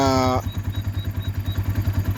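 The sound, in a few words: Kibo 250 motorcycle engine starting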